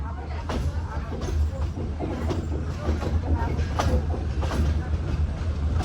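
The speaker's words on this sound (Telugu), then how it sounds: "ఇగోండి మీటర్ గేజ్ ట్రైన్లు 2" Low rumbling and clanking of meter gauge trains at Veraval Junction continues throughout, moderately loud, with someone talking over the noise.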